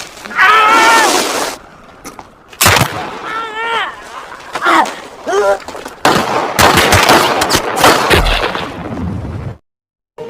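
Wartime gunfire as deserters are shot: loud bursts of rifle and machine-gun fire mixed with shouting voices and dramatic sound effects, ending in sudden silence.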